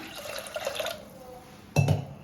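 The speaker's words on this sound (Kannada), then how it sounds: "ಸ್ವಲ್ಪ ನೀರು ಹಾಕ್ತೇನೆ." Water is poured into a pot of lentils mixed with turmeric powder and a little oil before pressure cooking, giving a short close splash near the end after a quiet stretch.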